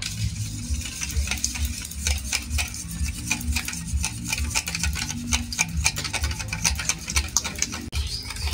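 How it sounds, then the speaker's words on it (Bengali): Eggs being stirred into semolina batter for a Christmas cake, a utensil scraping and tapping against the bowl in a steady, close, continuous rhythm with no voices. "এরপর ভালো করে কিন্তু মিশিয়ে নেব সুজির সঙ্গে"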